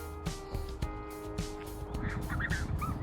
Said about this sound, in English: So we have these couple of nice swans, and then we got this cygnet.